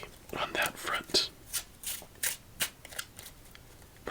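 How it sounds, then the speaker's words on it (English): A deck of playing cards is shuffled in a quiet ASMR solitaire session, giving a series of soft riffling bursts up close, with faint whispered talk between them. "Let's give it 4 shuffles"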